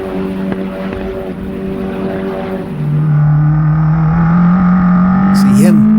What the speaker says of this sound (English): All 303 horsepower of the turbocharged Honda 4-cylinder, the K20C1, lifted right out of the Honda Civic Type R.